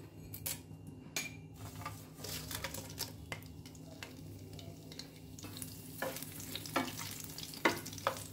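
Dried red chillies, green chillies and peppercorns fry in hot oil for a chicken dish, giving a steady close sizzle with clinks and scrapes of a spoon stirring the pan, no voices.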